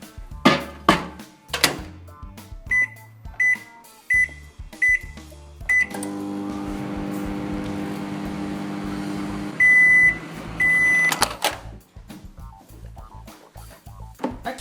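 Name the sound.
microwave oven heating Wilton candy melts in short burst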